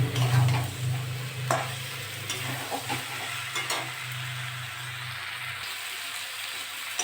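Potatoes and cauliflower sautéed in a spiced tilapia gravy, a steady sizzle with a low bubbling rumble and intermittent spatula scrapes and clinks against the pan, close up, with the bubbling cutting out near the end.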